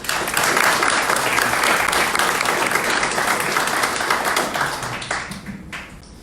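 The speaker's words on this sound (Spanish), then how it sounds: "recibamos a nuestro moderador con un fuerte aplauso" Loud, sustained applause from the audience at a book presentation in Xalapa greeting the moderator, many hands clapping together near and full, then thinning and fading out toward the end.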